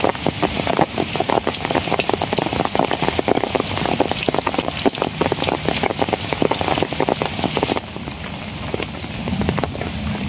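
Heavy rain hammers down close by in a dense, crackling patter, easing slightly toward the end, with no voices.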